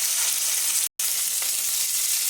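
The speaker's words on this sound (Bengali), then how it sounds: "মাছগুলো ভাজা হয়ে গেছে" Fish sizzling steadily in hot oil in a Bengali home kitchen, a broad continuous hiss with a brief full cutout just before the one-second mark, no voices.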